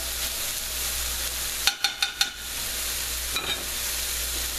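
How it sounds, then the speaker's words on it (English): Garlic sautés in a pan for a Philly cheesesteak, a steady close sizzle interrupted by a quick run of sharp utensil taps and a couple of softer clinks. "So I love to put garlic in everything. We'll saute that up."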